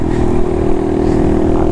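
Honda Monkey motorcycle fitted with a Yoshimura RS-3 exhaust idling close by, a loud, steady, mellow low engine burble with light mechanical clatter and no speech.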